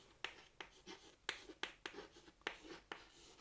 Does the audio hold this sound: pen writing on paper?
yes